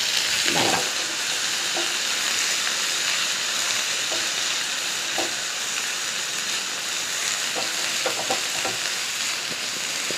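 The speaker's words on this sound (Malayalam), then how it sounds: "അതായത് തക്കാളിയും സവാളയും നന്നായി വഴണ്ടി വരണം." Tomatoes and onions frying together in a pan, a continuous hissing sizzle with occasional soft stirring knocks, close and steady throughout without speech.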